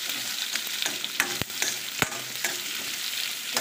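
Chopped onions and vegetables for kadai paneer sizzle in hot oil in a pan, a steady close frying hiss broken by sharp clacks of a spoon stirring.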